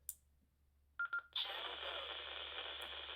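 A Baofeng AR-152 handheld radio powers on with a quick series of short electronic beeps, followed by a steady, close hiss of static that continues to the end.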